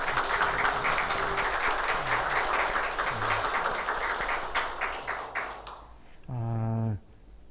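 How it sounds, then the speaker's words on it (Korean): A congregation at a university chapel service applauds the professors' praise team with dense, sustained clapping that fades out toward the end, followed by a short sustained musical tone. "오늘 은혜로운 찬양해 주신 우리 교수님들 찬양단 우리 감사의 박수 할까요?"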